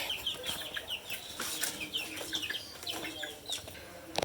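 Farm chickens cluck and call in a steady scatter of short, overlapping sounds. A wing flap or two is heard too, fairly faint and at a middle distance, with no talking.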